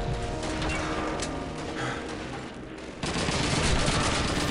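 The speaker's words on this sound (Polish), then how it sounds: "Mówię o tych strzałach w rurę oczywiście." Scripted machine-gun fire rakes a pipe in Call of Duty 2, a dense, loud burst of rapid shots and metallic impacts that runs without pause and intensifies toward the end.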